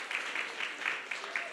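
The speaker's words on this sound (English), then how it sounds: "Can we have a huge round of applause for all of our speakers?" Audience at a capacity-building hub opening applauds the speakers, giving a short, moderately loud burst of mixed clapping with a few sharper claps standing out, under a faint murmur of voices.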